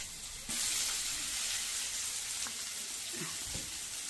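Onion sizzling in a hot pan during cooking of potato bhaji, a steady broadband hiss that jumps louder after a moment and continues with a few soft clinks of utensils.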